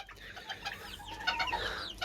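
A blue backup rooster in a backyard coop clucks close by in short repeated calls, with faint bird sounds around it.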